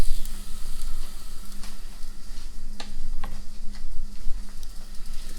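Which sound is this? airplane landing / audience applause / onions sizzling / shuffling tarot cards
onions sizzling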